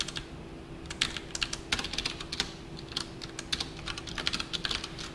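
Rapid, uneven clatter of keys on a computer keyboard while code is entered, close and clear, with irregular bursts and short pauses and no speech.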